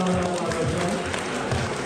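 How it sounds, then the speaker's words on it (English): At a beetleweight robot combat championship in Bristol, the crowd gives a brief round of applause, a faint, continuous patter of clapping heard beneath an announcer's amplified voice. "Round of applause for Joe, everybody."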